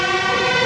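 A loud, steady emergency siren wails on a Rotterdam street, close by and filling the moment without talk.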